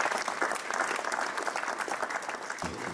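Steady applause from an audience at a Swiss Schwingfest event, a dense patter of many hands clapping continuously for about three seconds at moderate distance.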